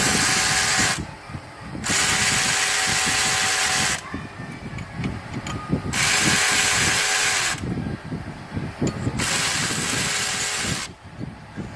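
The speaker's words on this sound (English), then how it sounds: "Then get the ratchet back in here and finish zipping out these 4 bolts" A ratchet spinning out the water pump bolts on a 2002 Ford Explorer Sport Trac, loud close bursts of rapid clicking in repeated runs of a few seconds, broken by brief quieter pauses.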